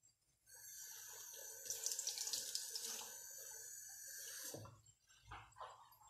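Water runs from a tap into a bowl of couscous being prepared, a steady splashing stream that stops after a few seconds, followed by a couple of light clinks and handling sounds.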